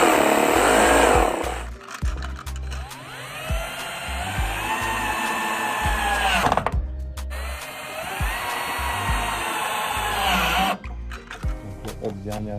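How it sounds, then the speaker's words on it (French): A power drill pre-drills a wooden roof plank on a wooden shelter, whirring up to speed in two long bursts, each several seconds, close and loud, with brief pauses between. "Là maintenant je vais pré-percer."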